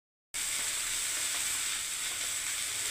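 A mustard and poppy-seed paste fries in a pan, giving a loud, steady sizzle and hiss that begins abruptly and carries on without pause, with no talking.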